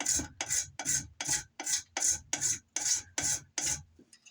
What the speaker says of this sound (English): And you're going to see little shavings, and it's almost like spaghetti.